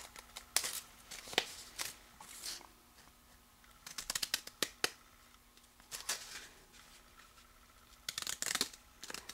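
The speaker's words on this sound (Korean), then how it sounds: "이 템플릿을 대고 바로 자르겠습니다" Large scissors cut through folded paper along a template to shape basket pieces for a paper-weaving flower basket, giving close, crisp snips in irregular bursts separated by brief pauses.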